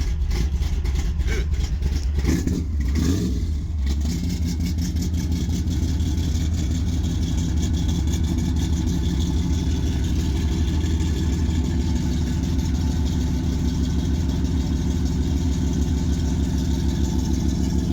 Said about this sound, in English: One thing I was really admiring about this engine is how smooth it actually is.